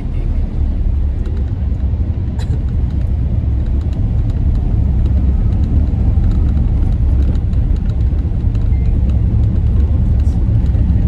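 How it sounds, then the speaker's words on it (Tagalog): A motorized tricycle on the road, its engine a loud, steady, close rumble that fills the whole stretch. "Hindi, itong tricycle,"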